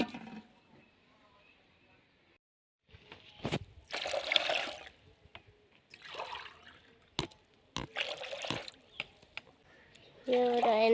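Water is poured and splashed while nimbu pani (lemon water) is made in a village home, heard as close, intermittent bursts of splashing and trickling with quieter gaps between them.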